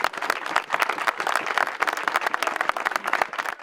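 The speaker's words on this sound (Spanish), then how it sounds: "un fuerte aplauso para ellos" An audience gives a brief round of applause for the pitch makers of Quintanar de la Sierra, with many hands clapping in a dense, lively burst that holds steady and nearby.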